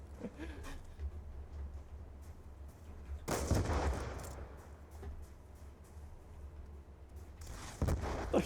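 Loud bursts of gunfire in Call of Duty 3 crack out repeatedly, including sniper shots, with a heavy blast partway through and another near the end over a steady low hum.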